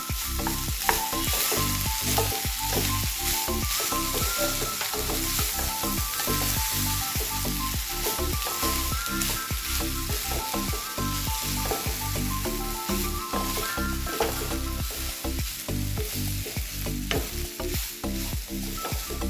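Rice for a mango rice dish stirred and frying in a pan, with steady sizzling and repeated scraping strokes of a spoon throughout, close and continuous with no talking.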